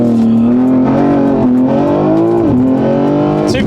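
A tuned BMW M3 Touring estate, loaded with two people, launches hard. Its loud, steady engine note climbs in pitch with a brief dip around a shift, up close and with no talk.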